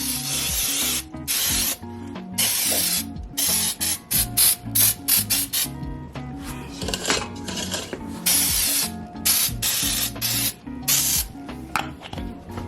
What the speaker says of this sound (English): I'm going to use some of this baking spray and just make sure to thoroughly spray the pan.